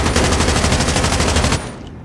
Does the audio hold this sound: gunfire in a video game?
yes